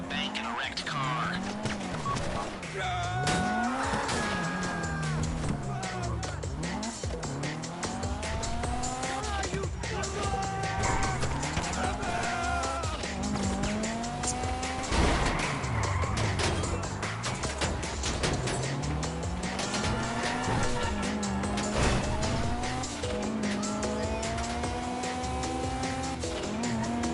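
Cars racing in GTA Online, engines revving up and down with repeated tire squeals and skids, loud and continuous over a busy game mix with voices talking throughout.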